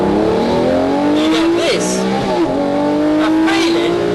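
A Lamborghini with 640 PS accelerates hard, its engine note climbing steadily in pitch with a brief dip at a gear change before rising again, loud and close, with a voice speaking over it.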